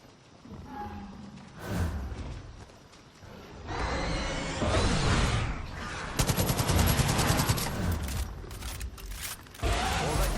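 Gunfire from a weapon in the video game Far Cry 5, in a zombie mode: loud, dense bursts of rapid shots and crackling blasts that swell and fade over a busy game backdrop, with one sharp burst near the end.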